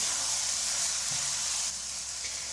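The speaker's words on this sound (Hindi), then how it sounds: "अब इसके अंदर हमने जो भिंडी की कटिंग करके रखी थी ना, वो डाल देंगे।" Cut okra hitting hot masala in a pan, giving a steady, loud sizzle and hiss with faint stirring scrapes underneath.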